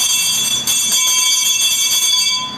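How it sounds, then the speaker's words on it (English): A teacher's hand bell is shaken at an old one-room schoolhouse, ringing loudly and continuously with a bright metallic clanging throughout. "she would go out and she would just shake the bell"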